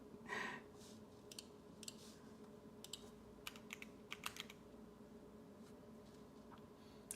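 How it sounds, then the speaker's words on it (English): Close computer keyboard typing plays in short irregular bursts of crisp clicks, fairly quiet against a soft background hum, with a brief breathy sound at the start. "I think the typing sounds are actually, those might be my own keyboard recording."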